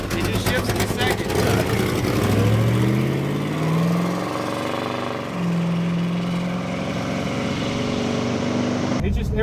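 A forgotten 1971 Plymouth Roadrunner, smoky after 35 years, drives along with its engine revving up through rising and falling pitch, loud and close, under someone talking throughout.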